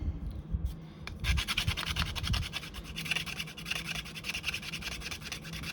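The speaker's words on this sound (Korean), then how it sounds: "얘가 이제 일반 사포들보다 갈리기도 잘 갈리는데 굉장히 빠르게 평평하게 만들어줍니다." A glass file is drawn back and forth across a nail surface to sand it flat, giving rapid, rhythmic, close-up scraping strokes at a low, steady level.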